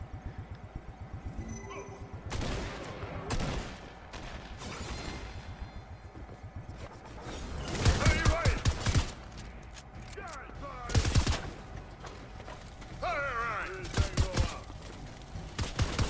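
Fortnite gunfire, with repeated automatic bursts and single shots through a hectic match, loudest around the middle and again later, mixed with game noise and a voice talking.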